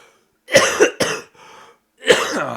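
Several harsh, close chest-cold coughs in quick bursts, a pause, then one more hacking cough.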